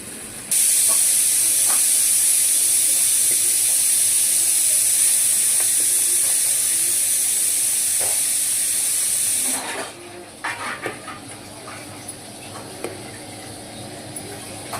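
A pressure cooker steaming rice lets out a loud, continuous hiss for about nine seconds, then it cuts off abruptly, leaving faint kitchen clatter and low background noise.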